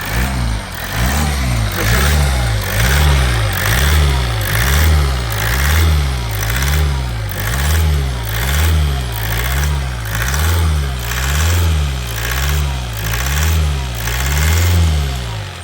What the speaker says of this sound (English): Give that a few revs.